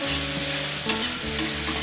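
Potatoes and bitter gourd are stir-fried in a pan, a steady close sizzle with a couple of brief scraping stirs, no voices.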